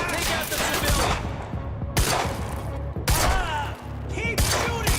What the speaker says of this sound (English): Why the hell is Monarch firing at us?